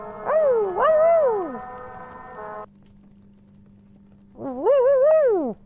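Puppy creature in the video game Poppy Playtime making cartoonish whining, yowling cries, two quick rising-falling calls, a pause over a low steady hum, then another drawn-out wail.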